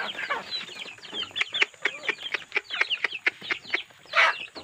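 Hens in a netted chicken range give a busy run of sharp, rhythmic clucks and squawks, nearby and fairly loud, ending with a louder burst of calls.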